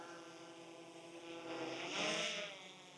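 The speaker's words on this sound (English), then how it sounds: "excuse the drone noise if you can hear it" A steady, harmonic propeller buzz drones continuously, swelling louder in the middle as the drone passes nearer, then easing off slightly.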